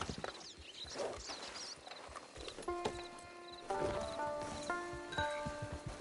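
Horse hooves clip-clop in Red Dead Redemption 2 Online, a quiet run of soft, even hoofbeats under faint sustained game music tones.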